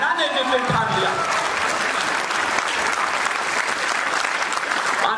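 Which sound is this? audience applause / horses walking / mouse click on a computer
audience applause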